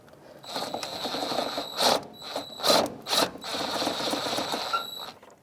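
Ratcheting wrench tightening the top strut mount nuts on a 2002-2005 Ford Explorer during front shock replacement, with several bursts of close mechanical clicking and clatter over about five seconds, no talking.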